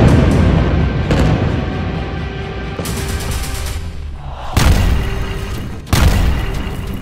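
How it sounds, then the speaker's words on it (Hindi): Heavy booming explosions from bombing in Gaza, a deep continuous rumble broken by several sharp loud blasts, one near the middle and another toward the end. "एक तरफ गाजा पर बमबारी हो रही है"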